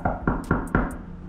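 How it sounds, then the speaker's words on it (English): A hand knocks on a door four times in quick succession, firm and close, each knock a solid wooden thud, followed by a brief quiet pause. "Knock on the door."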